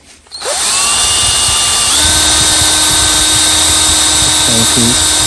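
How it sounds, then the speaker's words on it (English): A power tool spins a wire wheel against a valve from a 1979 Honda XL500s motorcycle head, quickly spinning up to a loud, steady whine that holds for several seconds, close by and alone. "Then I used the wire wheel."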